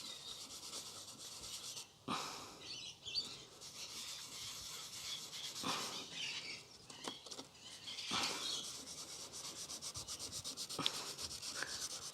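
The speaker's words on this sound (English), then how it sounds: "Let's go and rub that bit down, see how we go." High spot on a power saw's carbon brush rubbed down by hand with an abrasive, a soft rasping scrape in short bursts and pauses, close but faint, with no voices.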